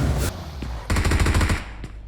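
Gunfire in the mobile battle-royale game PUBG Mobile: a short burst, a pause, then a rapid automatic volley of close, loud shots, with no talking.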